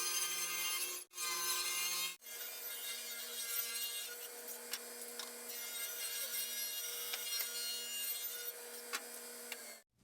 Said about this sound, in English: I'll go ahead and trim this side off camera and cut the 45s